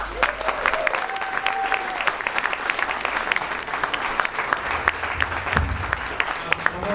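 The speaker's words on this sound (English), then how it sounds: "So ladies and gentlemen, Matt Tendam, give him a round of applause" Audience applause for a speaker being introduced at a talk, steady clapping from a fairly large room with a few crisp nearby claps, sustained throughout while faint voices and murmurs mix in underneath.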